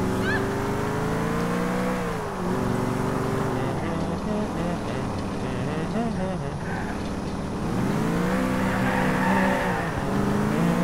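A loud, smoking car engine in Grand Theft Auto IV hums and revs steadily, its pitch rising and falling with gear changes, with a voice faintly underneath.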